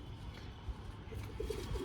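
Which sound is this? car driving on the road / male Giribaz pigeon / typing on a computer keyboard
male Giribaz pigeon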